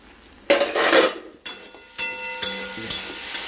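Small fish with potato, pointed gourd and green banana being stirred in a pan, giving a series of close scraping and clinking spoon strokes against the metal with a light sizzle underneath and no talking.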